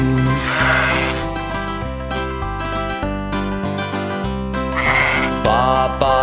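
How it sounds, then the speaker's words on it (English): Cartoon sheep bleats in a children's nursery rhyme, two clear voiced baa calls near the start and end, sung over steady bouncy music with no speech. "Baa, black sheep, have you any wool?"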